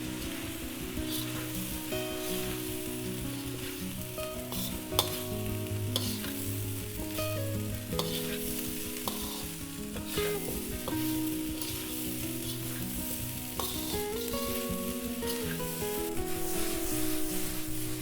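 Vegetable fried rice is tossed in a greased pan over high heat without a ladle, restaurant style, giving a loud, constant sizzle with repeated scraping and stirring swishes close by and no voices.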